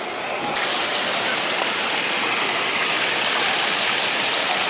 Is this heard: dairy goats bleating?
no